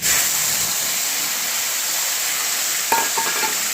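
A turmeric and spice paste goes into hot oil with a loud, steady sizzle and hiss that runs throughout, and a few sharper crackles and spatters break out near the end.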